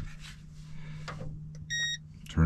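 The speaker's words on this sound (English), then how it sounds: "Turn it back on so you can hear it beep some more." A short electronic beep tone sounds once, preceded by quiet handling noises and a low steady hum, with another brief sound at the very end.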